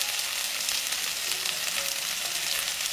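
Courgettes sizzling as they fry in a pan, a steady dense crackle and hiss close up, even and unbroken with no talk.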